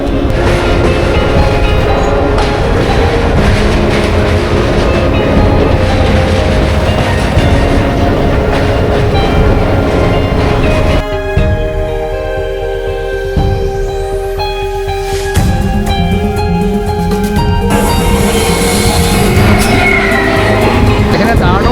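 Local train travelling from Kolkata to Digha, heard from on board as a steady rumbling roar. Partway through, the sound shifts into squealing, tonal wheel and brake noise, and a voice speaks over it.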